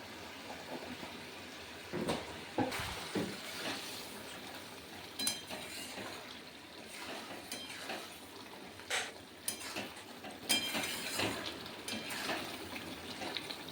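Mushroom and potato curry cooking down in a pan with water and garam masala added, a faint low sizzle with scattered stirring scrapes and clinks from a spoon against the pan.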